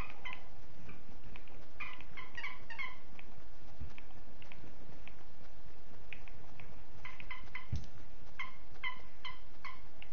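A dog plays noisily indoors during a home game stream, giving repeated squeaky, whiny yelps and growly vocal bursts in clusters over a constant hiss, fairly close and moderately loud, with no talk.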